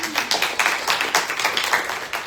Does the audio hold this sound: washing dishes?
no